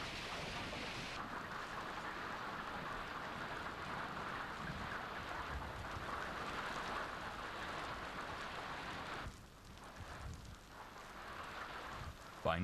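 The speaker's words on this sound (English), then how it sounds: "The result was a massive freak summer hailstorm." A massive freak summer hailstorm over Calgary, Canada: a dense, steady roar of hail and rain pelting surfaces, continuous and loud, briefly thinning near the end with no voices.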